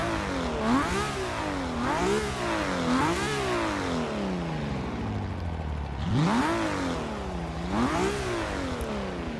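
Volkswagen Polo in the Forza Motorsport 6 racing game, its engine revving up and down repeatedly in rising and falling sweeps, loud and close with no talk.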